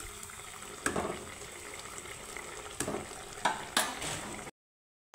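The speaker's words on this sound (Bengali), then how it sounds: "তো সুন্দর করে আমি ঝোলের সাথে মাছটাকে একটু ফুটিয়ে নিব 2 মিনিট।" Fish simmering in gravy in a pan gives a soft, low bubbling hiss, broken by a few sharp spoon clinks and stirs. It stays close and fairly quiet, with no talk, and stops abruptly near the end.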